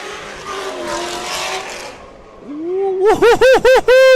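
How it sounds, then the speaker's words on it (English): Race car on an autocross course at Road America, engine note dropping then climbing hard through pulsing rev changes and gear shifts as it slides wide, loud and close. "Just slid a little wide on the far side and moved that cone outside of the boxes."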